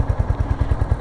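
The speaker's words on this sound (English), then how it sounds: "It's got a pretty pleasing exhaust note." A 2023 Royal Enfield Hunter 350 single-cylinder thumper idles close by, its exhaust note beating in a steady, even low pulse of about ten firings per second, loud and alone without any talking.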